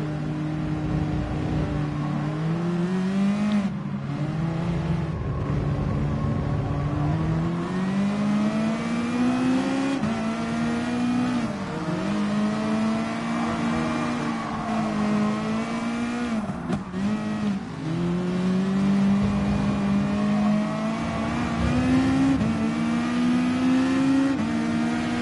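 Gran Turismo Sport Group 3 race cars, including an Aston Martin V8 Vintage GT3, accelerating through a 90-degree first turn, a dense pack of engines droning and rising in pitch together, loud and steady with occasional tire squeal.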